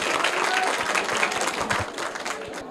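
Audience applause at a school quiz for a correct answer: dense, loud clapping from many hands, continuous and even throughout before tapering slightly at the end.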